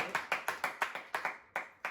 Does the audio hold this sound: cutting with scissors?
no